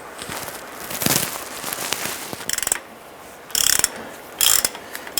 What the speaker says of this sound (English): Using a 21mm socket, go ahead and remove the caliper bracket.